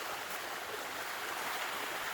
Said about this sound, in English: Here's our little waterfall.